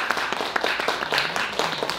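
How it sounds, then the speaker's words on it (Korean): A small audience at a comics bookshop talk concert claps steadily as an author is welcomed on stage, the dense patter of hands continuing evenly throughout. "이분 나오시면 또 여러분 큰 박수로 맞아주시기 바랍니다"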